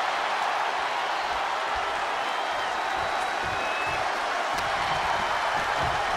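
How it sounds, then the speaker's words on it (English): A dense arena crowd roars steadily in WWE 2K24 Royal Rumble gameplay, a continuous loud wash of voices that seems to chant along as the next entrant is counted in, with no clear commentary over it. "Listen to this crowd count the next one in."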